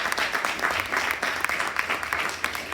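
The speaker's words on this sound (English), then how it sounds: "Let's give them a round of applause." An audience at a university panel event on community-based education applauds, with dense, steady clapping throughout at moderate volume, without any pause.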